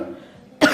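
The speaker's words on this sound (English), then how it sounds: "you might want to take like a small break and just cough, because that does happen" A sudden, sharp cough bursts out after a quiet stretch of kitchen background, triggered by pungent spices while cooking a vegan potato and peas curry at home; one loud, close, harsh expulsion.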